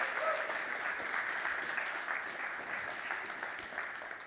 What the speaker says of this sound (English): can I please get a round of applause for the organizers?